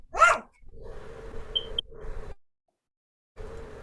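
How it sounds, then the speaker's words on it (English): A dog barks excitedly in a few sharp bursts close by, followed by quieter whimpering yelps and a pause of silence before more sound. "there's my dog. She got excited."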